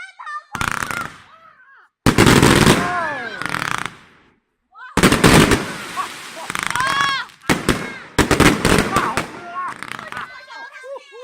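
Chinese New Year fireworks in Hengyang explode close by in loud bursts and crackling volleys, separated by brief pauses, while voices call out and talk between the blasts.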